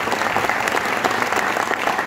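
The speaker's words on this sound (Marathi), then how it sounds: "एकदा शेतकऱ्यांसाठी जोरदार टाळ्या" An audience at a business presentation breaks into loud, dense applause for farmers, with sustained even clapping throughout and no voices over it.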